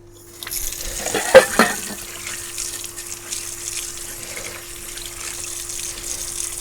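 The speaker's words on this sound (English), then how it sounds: "Let's just get these cat dishes as clean as a whistle." Hot tap water gushes into a kitchen sink while cat dishes are washed, a loud, steady splashing stream with a brief clatter near the start, then running on evenly.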